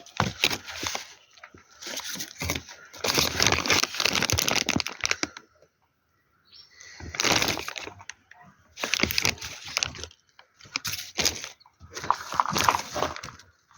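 A packet of Histick Soya soybean inoculant is crinkled and handled up close in several loud bursts of crackling plastic, separated by short quiet pauses.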